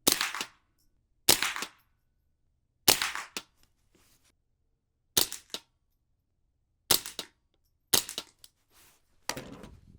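Seven sharp, loud rifle cracks from a suppressed Tippmann M4-22 .22 firing supersonic Winchester 36-grain ammunition, spaced irregularly about a second or more apart, each with a short decay and near silence in between.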